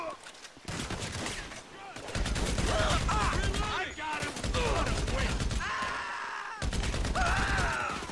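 Rapid bursts of automatic gunfire crackle through a GTA 5 Online survival match, heavy repeated volleys coming in clusters with short pauses, alongside groaning and other game sounds.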